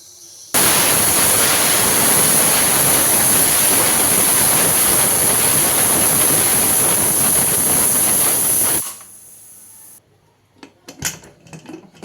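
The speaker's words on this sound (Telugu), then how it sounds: "ఇప్పుడు ఒక 2 whistles రాగానే చూద్దాం, ఓపెన్ చేసేయచ్చు" A pressure cooker of lentil and cabbage curry lets out a loud, steady hissing whistle on a raised flame. The whistle holds for roughly eight seconds, then stops sharply, and a few faint kitchen clinks follow in near silence.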